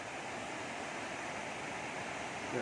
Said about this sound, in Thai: น้ำตกไหลลงมาเรื่อยนะครับ